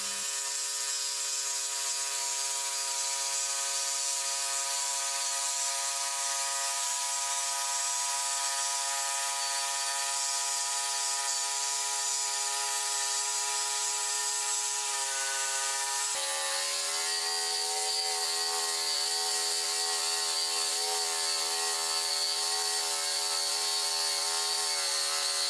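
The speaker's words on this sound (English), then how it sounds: "I can now proceed to cut this out with the jigsaw and fine tooth blade." A jigsaw fitted with a fine tooth blade cuts through a kitchen worktop, producing a continuous, loud buzzing whine that holds steady for a long stretch, then shifts slightly in pitch partway through, with no speech.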